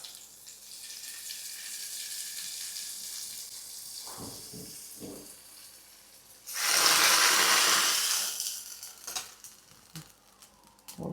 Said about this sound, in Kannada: ಐಕ್ ಒಗ್ಗರಣೆ ಪಾಡ್ರೆಗುಂಡು